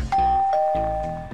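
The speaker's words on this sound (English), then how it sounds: "It won't stop ringing the doorbell." A doorbell in a Minecraft game chimes a clear two-tone ding-dong, loud and close, with the tones ringing out over about a second and no talking.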